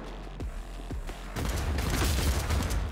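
A grenade goes off in Cyberpunk 2077 with a sudden loud burst midway, followed by sustained roaring, crackling blast noise; a few sharp bangs come before it.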